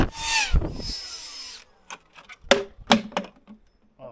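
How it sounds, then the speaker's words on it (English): A power drill whirs in a short burst, then winds down, followed by scattered knocks and clatters of tools nearby. "I got power tools!"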